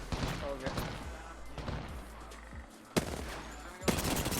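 Gunfire in an Xbox video game as the player is shot from behind, scattered sharp shots and bursts with a couple of loud cracks near the end, voices talking underneath.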